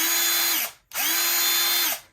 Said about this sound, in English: This is just a super strong drill.